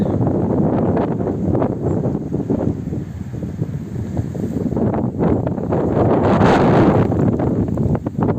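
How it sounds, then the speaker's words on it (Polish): Strong wind gusts buffet the microphone outdoors at a railway station in Czachówek, Poland, a loud, continuous roaring rumble that swells and eases without pause. "Wieje wiatr."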